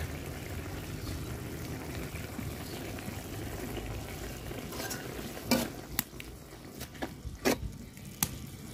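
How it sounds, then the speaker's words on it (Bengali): Ground spices fry and get stirred in a pan with a little water, salt and turmeric, a steady low sizzle running throughout, with sharp scraping taps of the spoon joining in toward the end. "মশলাটা আমি সুন্দর করে কষায় নিছি"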